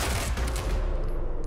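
Rapid bursts of gunfire from the video game Quantum Break crack out in a dense, loud volley for a moment, then trail off near the end.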